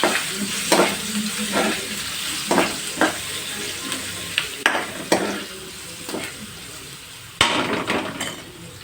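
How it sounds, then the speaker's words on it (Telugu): Crushed garlic fries in hot oil in a pan, a soft sizzle running beneath repeated scraping and clinking strokes of a spoon stirring it, close and uneven in rhythm. "దంచి పెట్టుకున్నటువంటి వెల్లుల్లిని కూడా ఇందులో వేసేసి కొంచెం పచ్చివాసన పోయేంత వరకు వేయించాలి"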